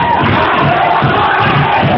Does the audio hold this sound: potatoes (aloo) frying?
no